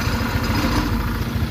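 Honda Click 150 scooter engine running steadily on a dyno, a loud continuous low drone with constant vibration, close and alone without talk.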